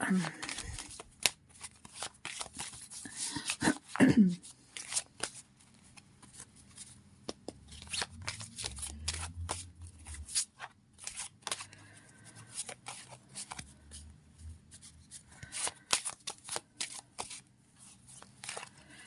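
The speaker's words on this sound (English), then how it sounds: "And then shuffle each deck." Cards are shuffled repeatedly in quick riffling bursts, close and soft, with scattered handling clicks between rounds.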